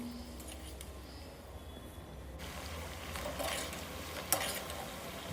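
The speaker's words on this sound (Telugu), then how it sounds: "కొద్దిగా బ్రౌన్ వచ్చేటట్టుగా, క్రిస్పీగా వచ్చేటట్లుగా వేయించుకోవాలండి." Vegetable pieces frying in oil until browned and crisp make a soft, steady sizzle. The sizzle grows a little fuller partway through, with a faint clink near the end.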